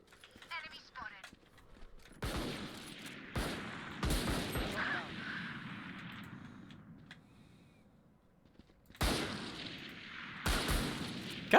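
Gunfire in the video game Valorant, scattered sharp shots and short bursts over several seconds, mixed with game effects and a speaking voice.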